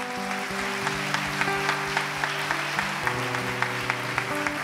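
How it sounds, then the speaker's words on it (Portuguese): A church congregation applauds strongly to the Lord during an evening service, dense sustained clapping over a lingering held organ or keyboard chord, loud and continuous throughout. "Dê um forte aplauso ao Senhor"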